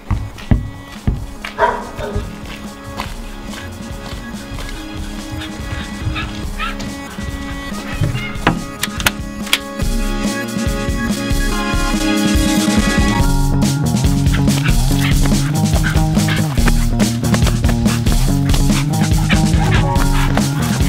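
Several dogs bark and yip excitedly, with sharp repeated barks over a busy, loud background that builds and grows denser as the barking continues.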